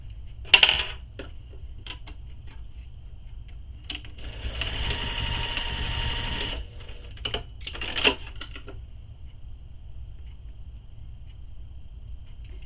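A sewing machine base stitching a bag strap connector in a steady burst of about two seconds, with short clicks and handling taps before and after, close and fairly quiet, with no talking.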